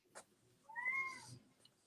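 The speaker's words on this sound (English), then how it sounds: "Colby's meowing because Riley was barking" A cat gives a single drawn-out meow at close range, faint and clear, after a brief rustle, in an otherwise quiet room.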